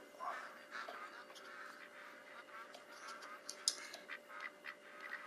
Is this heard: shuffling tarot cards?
no